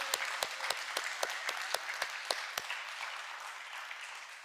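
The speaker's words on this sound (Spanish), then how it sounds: "Yo que fuera usted la aplaudía con más fuerza" A church congregation claps during a sermon, a soft spread of applause threaded with a few sharp, distinct individual claps at regular intervals that thin out and fade toward the end.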